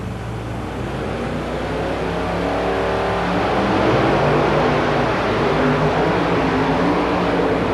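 Big monster truck engines, Chevrolet against Ford, roar and rev continuously at close range at a 1990 Memphis race, a dense, loud growl that rises slightly in pitch partway through, with no voices heard.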